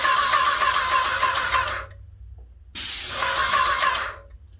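An airless paint sprayer hisses loudly onto a wall during a quick touch-up in a small room, two bursts of spray separated by a short pause, each cutting off sharply.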